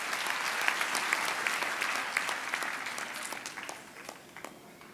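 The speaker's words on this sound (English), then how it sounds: "Let's give them truly a last round of applause" Audience applause at a university graduation ceremony: sustained, dense clapping from a large crowd that fills the hall and slowly tapers off.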